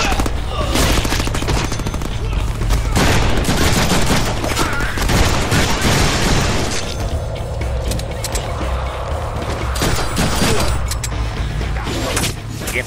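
Dense, sustained gunfire fills a Deadpool video game battle: rapid automatic bursts and loud shots roll on continuously from start to finish, with booming impacts mixed into the steady barrage.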